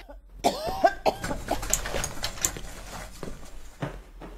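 A burst of several harsh coughs comes in quick succession, followed by quieter breathy sounds and a few faint clatters.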